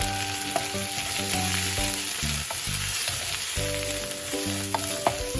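Grated coconut and peanuts fry in a pan for a tindora stir-fry, a bright, steady sizzle with crackles and occasional spoon knocks, while a low tonal hum runs underneath.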